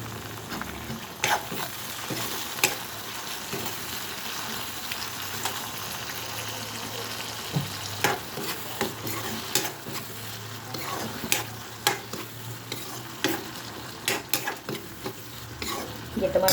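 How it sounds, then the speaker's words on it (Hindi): Onion and tomato frying and being stirred in a pan, a steady soft sizzle running throughout with repeated scraping stirs of the spoon against the pan, close and fairly even, no voices. "ये टमाटर डाल दिया मैंने। अब इसको भी थोड़ा सा फ्राई कर लूँगी।"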